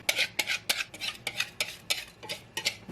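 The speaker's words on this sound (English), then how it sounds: "I'm actually going to put my sauce into a frying pan." A utensil scrapes and stirs peanut sauce in a frying pan for peanut butter noodles, about ten quick, evenly spaced strokes close by with no talking.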